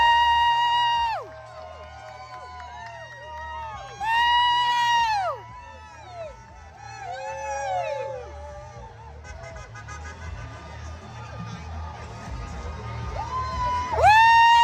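Protest crowd at an April 5th Hands-Off rally cheering and whooping, with loud rising shouts bursting out in waves over a steady low hum of voices, a final burst near the end.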